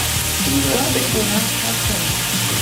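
Onions and bacon lardons frying in a pan while making quiche cones, a steady close sizzle with a few stirring scrapes and faint background voice.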